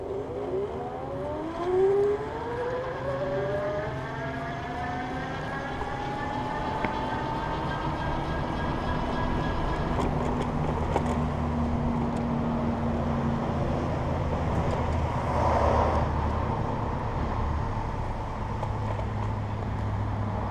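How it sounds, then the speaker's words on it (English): IZIP E3 Vibe electric bike motor on throttle, a whining tone that sweeps upward as it speeds up, then holds steady over road rumble, moderately faint. "I'm gonna do the throttle, and you can hear what the motor sounds like"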